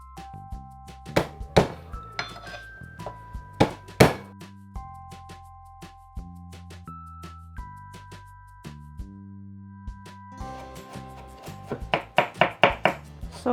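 A knife chops young garlic finely on a board for a tomato salad, sharp irregular thuds with some pauses, then a quick burst of rapid chops at the end, with no one talking.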